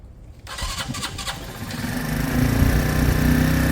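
A Keeway RKV motorcycle with a freshly cleaned carburettor cranks briefly and then catches, settling into a loud, steady idle that builds in strength over a few seconds, up close with no talking.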